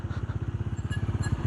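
Motorcycle engine chugging in a fast, even pulse while the bike rides a muddy rural track after rain, fairly close and steady for the whole moment, with no talking.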